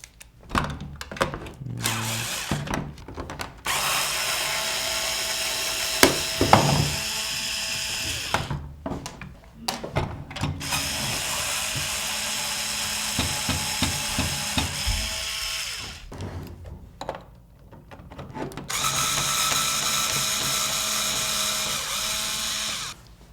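Bursts of a power screwdriver whirring as it backs screws out of a Nerf Socom toy gun, several runs of a few seconds each separated by pauses and small clicks of handling plastic parts.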